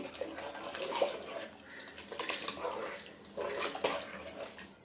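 Water poured into a pot of horse gram sprout curry, a continuous watery splashing and trickling with fluctuating intensity, close and fairly loud, with faint kitchen clatter.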